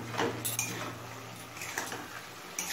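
Mustard greens stirred in an uncovered pan, light clinks and scrapes of a utensil against metal over a soft background hum.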